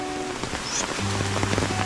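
Rain falls outdoors in a Konkan forest during a village mutton cook-out, making a close, continuous patter with faint tonal sounds underneath and no speech.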